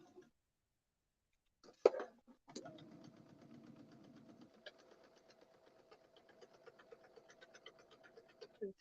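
After near silence and a single thump, a sewing machine starts stitching foundation paper-pieced quilt fabric, humming quietly and steadily with a faint rapid pulse until the end.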